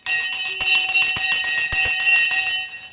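Live stock market broadcast bell ringing continuously for about three seconds, a bright sustained metallic clang with many steady overtones, loud and close, with no talk over it.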